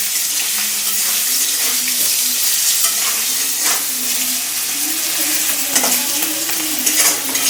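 Potatoes frying in oil in a pan, a loud, dense sizzle with the scrape of stirring running throughout and a few sharper knocks near the end.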